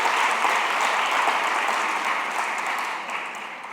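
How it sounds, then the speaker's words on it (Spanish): Steady applause from a church congregation fills the room, a dense wash of many hands clapping that holds evenly and then tapers slightly near the end, with no voices over it. "Saludamos también con un aplauso a la gente que nos escucha en las redes, televisión."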